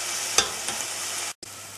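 Chopped onion, green pepper and a bay leaf sizzle steadily in a covered frying pan, a close, even hiss with a couple of soft clicks and a brief dropout near the end.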